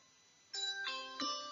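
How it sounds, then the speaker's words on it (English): A bell rings in three quick tonal strikes, each a clear chime that lingers, moderately close in an otherwise quiet room. "Now you can see the bell is ringing."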